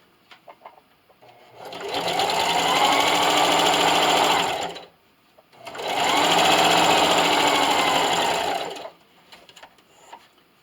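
A sewing machine stitches a diagonal line across a quilted canning mitt in two sustained whirring runs of about three seconds each, separated by a short pause, close and clear with faint handling sounds around them.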